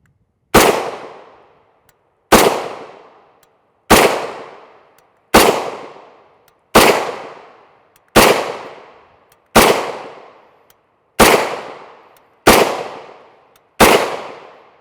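Ten loud, evenly spaced rifle shots from 7.62x39mm 124gr FMJ TelaAmmo fired through a 16-inch barrel, each a sharp crack with a decaying echo, about a second and a half apart with no talking.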